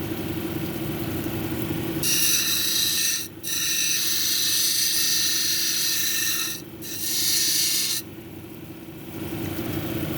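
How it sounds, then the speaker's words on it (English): A dumortierite cabochon edge is ground against a wheel, a steady bright rasping drone that runs continuously with two brief dips where the stone lifts off, over a low motor hum. "I'm going to grind this top edge off here"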